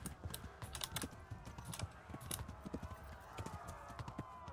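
In the medieval video game Kingdom Come, a horse gallops with quick, rhythmic hoofbeats thudding under steady game background sound, while a player's keyboard taps and excited talk occur nearby.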